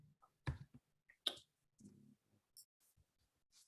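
Computer mouse buttons double-clicked at a desk, sharp small clicks in quick pairs and singles scattered across a few seconds, faint and close, with no voices.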